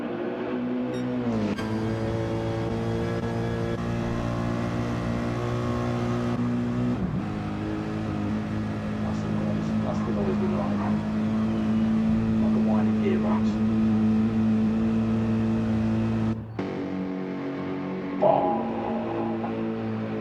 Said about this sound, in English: AMG does have a great sound,